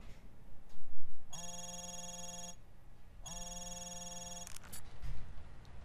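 A mobile phone rings in the video game Hitman Absolution, two long electronic ring bursts separated by a short gap, loud and close over faint background ambience.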